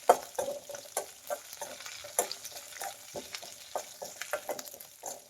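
Ingredients for egg sambar roasting in a pan while being stirred, with a soft steady sizzle broken by repeated scraping strokes of the spoon at an irregular pace, close and fairly quiet.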